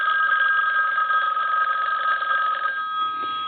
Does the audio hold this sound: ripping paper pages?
no